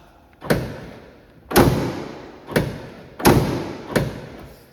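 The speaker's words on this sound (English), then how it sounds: "I'm gonna close the tailgate now. It's latched." Ford F-150 pickup tailgate, about 2016 model year, being shut and latching after a lock actuator replacement. Five close, heavy thuds land about a second apart, each with a short ring that dies away.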